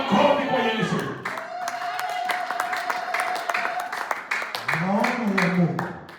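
A church congregation clapping for Jesus, steady applause from many hands rising under a loud preacher's voice, with talking continuing over the clapping throughout.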